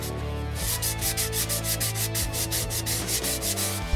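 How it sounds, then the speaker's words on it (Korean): Sandpaper rubbing down the chemical-paint coating of a wooden rice bowl, quick rhythmic back-and-forth scratching strokes heard up close with no talk. "이렇게 사포로 갈아내면 확실히 화학도료 냄새가 더 납니다"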